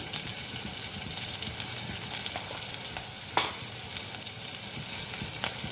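Prawn, brinjal and raw mango curry sizzling and frying steadily in a pan with red chilli powder, with a few scraping stir strokes over the continuous close hiss.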